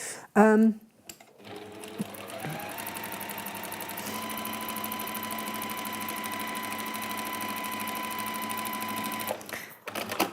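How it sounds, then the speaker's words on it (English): A domestic sewing machine re-stitches a seam on a hexagon patchwork cushion, running with a steady, even mechanical whirr and rapid needle chatter for several seconds after a brief voice and clunk at the start, then stopping. "I'm just going to re-sew that seam"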